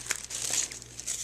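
Tissue paper folded over into four layers for a handmade paper flower, giving close, continuous crinkling and rustling with a few sharper crackles, with no talking.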